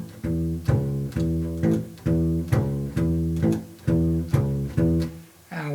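Bass guitar plays a major triad line of root, fifth and third in a repeating bouncy pattern with short detached notes, clear and alone at moderate volume.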